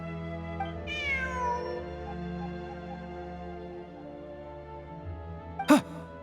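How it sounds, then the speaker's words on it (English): A cat meows in Genshin Impact with a rising, drawn-out call, followed near the end by a short, sharp second meow over a steady bed of in-game ambient music. "Look! A cat!"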